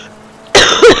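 A person coughs loudly and close up, two harsh bursts in quick succession after a quiet stretch of background hum.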